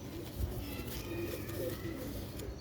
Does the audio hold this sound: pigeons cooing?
yes